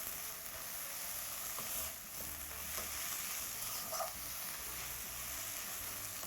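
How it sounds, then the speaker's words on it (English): Spinach filling for coconut spinach ravioli sautés in a pan with a steady, fairly loud sizzle and occasional stirring scrapes throughout, close by and with no one talking. "Now, as you saute this, the spinach will of course continue to wilt."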